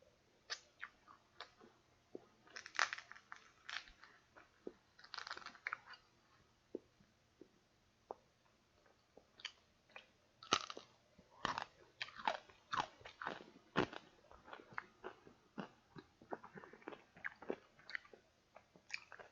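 Crisp crunching and biting of fried lechon kawali pork skin, irregular sharp crackles close up at a steady eating pace, with no talking.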